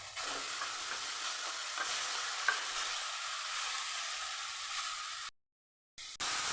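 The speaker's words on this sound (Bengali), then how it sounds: "আলু মশলার সাথে মোচার সেদ্ধটাকে মিশিয়ে দেবো।" Boiled banana flower is stirred into a frying potato and spice mixture, giving a bright, steady hiss and sizzle close up that cuts out briefly before resuming.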